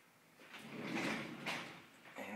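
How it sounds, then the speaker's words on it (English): Sliding closet doors in a house being shown for sale, rolling open or shut in a soft, smooth rumble that swells twice and then trails off, fairly close and alone. "Sliding closet doors."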